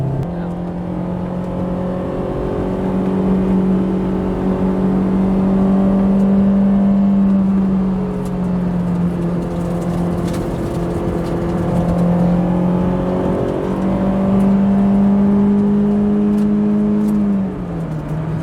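A track-ready Honda S2000 sports car cruises along a smooth road, its engine a close, steady drone that rises and falls gently in pitch as it drives, with no break in the sound.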